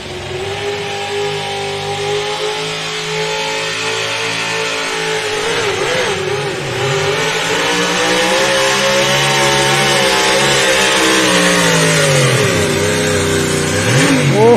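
A pulling truck or tractor engine roars at high revs during a pull at a Napoleon, Ohio pulling event, loud and sustained, its pitch dipping and climbing as the throttle is worked, with no talking.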